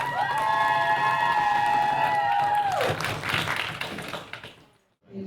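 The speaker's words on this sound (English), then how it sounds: "one more round of applause for our open finalists." Applause from a debate audience for the open-round finalists, a steady wash of clapping with some cheering voices over the first few seconds, then thinning out and fading to near silence at the end.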